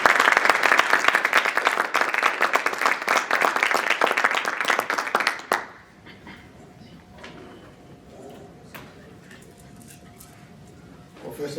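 An audience applauds to welcome a lecturer to the podium at a lecture series, dense sustained clapping for several seconds that stops abruptly, leaving a quiet room.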